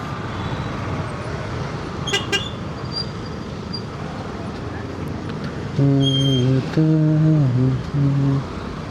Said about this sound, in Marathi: आणि सुरुवात झालेली आहे ट्रॅफिकला